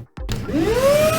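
A cordless 20kPa stick vacuum cleaner for wet and dry use switches on after a short silence, its motor quickly spinning up into a steady, rising whine that holds loud and close.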